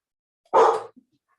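A dog gives one short, sharp bark at moderate distance, isolated in otherwise quiet surroundings, followed by a faint trailing sound.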